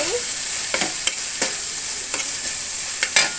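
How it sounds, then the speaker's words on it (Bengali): Cut shrimp are stir-fried in a pan with a steady bright sizzle, while a utensil scrapes and taps against the pan in several short strokes. "চিংড়ি মাছটা দিয়ে দিলাম ভালো করে কষিয়ে নিয়েছি"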